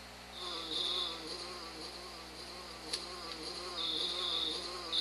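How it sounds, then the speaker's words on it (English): A bee buzzes in the game EarthBound, a steady high whine that swells and fades as it hovers close, looping over a low electronic hum with a brief click midway. "do you hear a buzzing that sounds like a bee flying around?"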